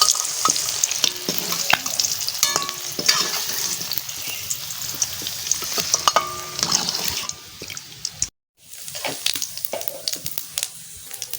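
Quail eggs fry until crisp in a hot pan, giving a steady, close, crackling sizzle with small spatters that drops out briefly near the end and then resumes. No one talks.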